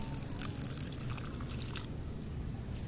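Water splashes and trickles as carnivorous plants are watered, soft irregular drips and spatters over a low steady background, fairly faint and close.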